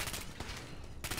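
Automated turrets firing in Fallout 4, a short rapid burst of gunfire that cuts off and resumes near the end, fairly quiet.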